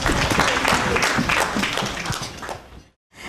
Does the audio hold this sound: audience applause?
yes